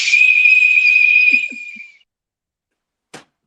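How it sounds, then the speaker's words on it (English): A single high, steady whistle blown loud and close for about two seconds, tailing off, followed by a brief faint tap after a pause. "Where's the whistle?"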